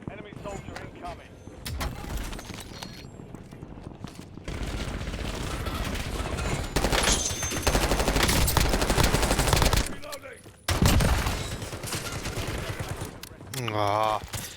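A FENG rifle fitted with a laser fires in rapid, SMG-like bursts during a Call of Duty: Warzone match, loud sustained automatic gunfire broken by short pauses, with players talking over it throughout.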